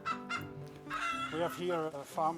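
Laying hens cluck and squawk at close range on a Dutch egg farm, rapid overlapping calls with rising drawn-out notes, loud and busy.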